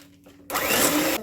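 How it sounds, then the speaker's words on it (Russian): An electric kitchen mixer switches on in a home kitchen and whirs loudly at a steady pitch for under a second before cutting off. "Взбивать буду миксером"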